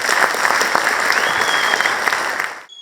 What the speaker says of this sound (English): Can I hear how loudly can you all clap, please?